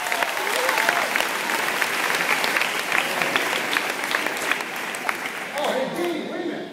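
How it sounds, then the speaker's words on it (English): Sustained applause from an audience, dense clapping filling the whole stretch and thinning slightly near the end. "They're going to give you a nice round of applause."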